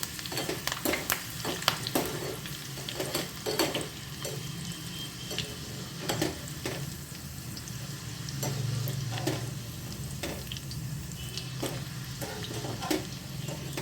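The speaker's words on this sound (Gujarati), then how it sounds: "આપણે એમાં લીમડું અને બોરિયા મરચાં પણ નાખશું" Curry leaves and dried red chillies frying in hot oil for Gujarati thick-poha chevdo, a steady close sizzle with scattered crackles and spoon-stirring clicks throughout, no voices.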